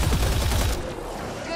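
Gunfire in the sci-fi video game Mass Effect Andromeda, a quick burst of rapid shots up close followed by a rumbling tail, with voices in the mix.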